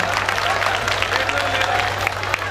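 An audience claps through a live comedic song performance, a dense, steady wash of applause over a low electrical hum.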